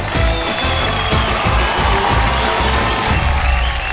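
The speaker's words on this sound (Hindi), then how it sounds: "जरा तालियां बजाइए।" A crowd at a comedy show claps and cheers in a continuous dense burst of applause that stays loud for the whole moment.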